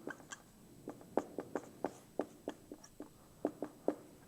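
Quick taps and short strokes of a pen or marker on a board as curves are drawn for an economics lecture, a faint, irregular series of close clicks with no talk.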